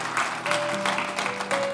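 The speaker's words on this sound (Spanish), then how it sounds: "Denle ese aplauso fuerte a Cristo." A church congregation claps for Christ in a brief, steady round of applause, many hands together at moderate loudness with a sustained musical tone from an instrument underneath.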